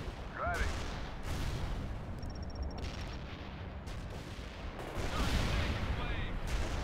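Heavy booming artillery fire in a war strategy video game, deep repeated blasts over a constant rumbling battle bed, with game radio voices and distant chatter mixed in.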